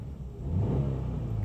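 A 2009 Subaru Forester with a 2.5L engine and 115,000 miles gives a brief, smooth rev, its low engine note swelling up and holding steady, close by and alone.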